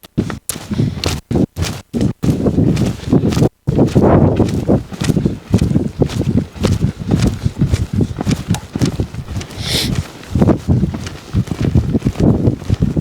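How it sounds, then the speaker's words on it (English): A horse lopes on the right lead during a training session, its hoofbeats thudding in a steady, rolling rhythm close by, with brief gaps near the start. "Lope off to the right on the right lead."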